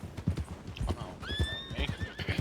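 In the Western game WildRP, hooves clip-clop in a close, steady rhythm, and partway through a horse lets out a high, drawn-out whinny over the hoofbeats.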